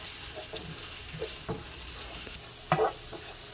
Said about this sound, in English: So immediately I'm going to put the onions and stir fry it, let it caramelize a little bit.